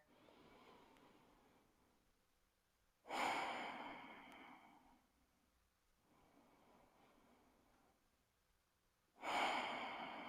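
Slow, deep breaths during a yoga session, two long airy exhales standing out clearly against quieter inhaling, close and alone with no talk.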